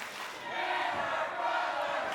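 A loud, continuous crowd roar fills a wrestling arena, many voices cheering together in a thick, steady swell with no breaks.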